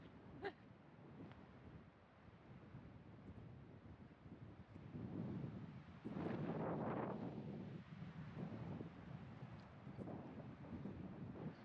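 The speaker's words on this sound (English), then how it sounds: "It's very windy." Strong wind gusting over open vineyard countryside, rumbling and buffeting close against the microphone in steady waves that swell louder midway, with no one speaking.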